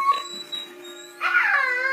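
A new puppy lets out thin, high whimpers and whines in short, close bursts, the second one longer and louder.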